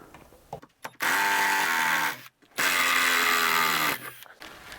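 Power drill driving 3-inch wood screws into wood while mounting a 72-inch ceiling fan, two sustained loud whirring bursts of about a second each with a pitch that drops as the screw seats, separated by a short pause.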